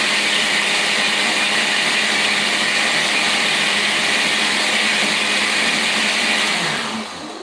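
A home blender, not a Ninja, runs on a milkshake setting while making a smoothie, giving a loud, steady whirring roar for about seven seconds before winding down, close up and with no talking.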